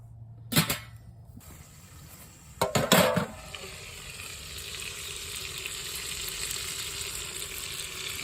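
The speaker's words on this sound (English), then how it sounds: "While our bacon is cooking up in the background" Bacon sizzles over a campfire outdoors with a continuous crackling hiss, broken early by a few sharp metallic clatters of pans and utensils nearby.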